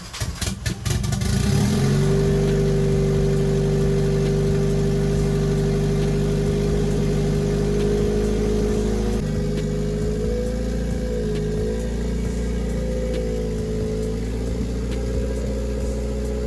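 Nissan Silvia with a KA24DET engine running steadily, a loud, close, continuous engine drone with a slight shift in pitch partway through, no voices.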